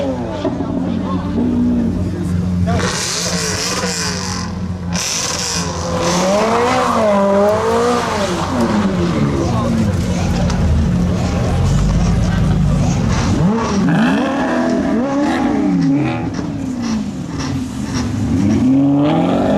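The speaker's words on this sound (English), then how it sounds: "Cars are starting to head out from this evening's meet." Several cars rev their engines and pull away one after another from a car meet, rising and falling roars with a brief tire squeal, amid a crowd murmuring nearby.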